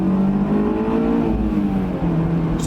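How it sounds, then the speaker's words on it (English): A Honda S2000 sports car accelerates, its engine holding a steady, loud drone close by throughout, with a slight dip near the end. "Acceleration."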